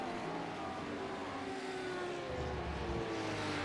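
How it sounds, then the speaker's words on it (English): Sim-racing race car engines at Le Mans in iRacing, a steady loud layered engine drone with rising tones, as if several cars run at speed, with no talk over it. "These are some of the best engines in the sim"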